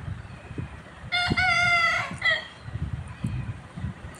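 A white rooster crows once, loud and close, in a quiet rural morning, with a few soft clucks and faint background sounds before and after.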